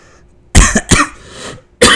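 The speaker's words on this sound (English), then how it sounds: "I have this lingering cough" Several sharp coughs, close and loud, from one person with a lingering cough: a double cough, a short pause, then another burst, with no talking.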